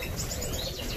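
An agate-mutation European goldfinch in a breeder's aviary: faint, thin chirps over steady, noisy room sound during one brief moment.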